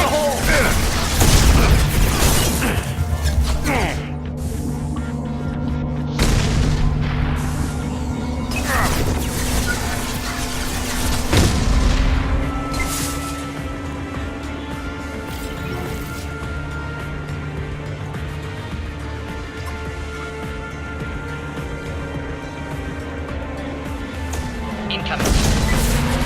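Grenade explosions and heavy combat in the video game Mass Effect 2: sharp bursts and booming crashes early on, then a sustained mechanical hum and scattered impacts, with a shouted voice among the noise.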